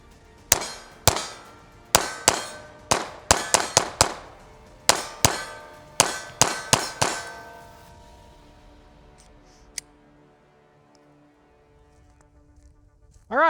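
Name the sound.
pistol firing a magazine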